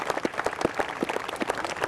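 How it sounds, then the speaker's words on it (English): A small audience at a child advocacy program event claps in a sparse, uneven round of applause, individual claps distinct and moderately near, with no talk over it. "Kelly, you need to give her a round of applause."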